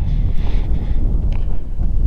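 Strong wind on a mountain buffets the microphone in a heavy low rumble, gusting unevenly throughout with no speech.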